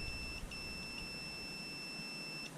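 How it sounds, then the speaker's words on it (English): A digital multimeter in continuity mode sounds a few short, high electronic beeps, near and alone over a faint steady background hiss, with no talking. "it'll make a beep."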